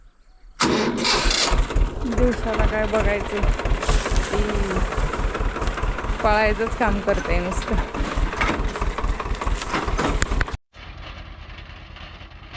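A farm tractor with a rotavator attached cranks and starts, then runs with a steady rhythmic chugging throb close by in the field, while a person talks over the engine; it cuts out abruptly near the end.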